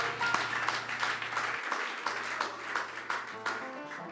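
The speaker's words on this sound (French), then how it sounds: "Applaudissons pour notre évêque," A church congregation applauds their bishop: a steady wash of many hands clapping across the whole stretch, moderately loud and fairly close, with a low hum running beneath.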